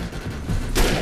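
Gunfire in a post-apocalyptic off-road video game: a short burst of shots with a loud broadband crack near the end, over a dense rumbling game soundtrack.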